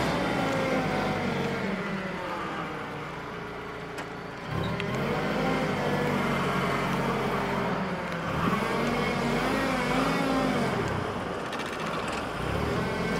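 A Mitsubishi FG30 6,000 lb propane forklift reversing, its engine a steady close hum with shifting pitch and a brief drop near the middle, running alone without talk.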